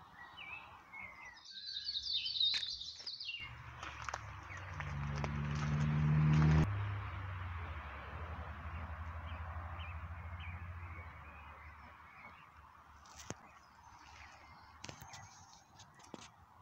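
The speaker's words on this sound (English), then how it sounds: "Can you hear the little chirps?" Goose chicks chirp by a canal basin at Bugsworth Basin near Whaley Bridge, with thin high peeps in short clusters over low outdoor rumble and an occasional deeper honk-like call.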